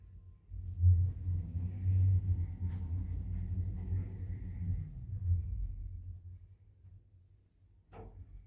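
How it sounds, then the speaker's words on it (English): An Orona lift at Richmond Town Centre, London, moving upward: a low, steady mechanical rumble and hum that swells in, holds for several seconds, then fades, ending with a short click or clunk. "Lift going up."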